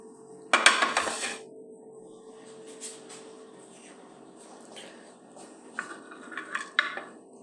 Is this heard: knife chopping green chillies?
yes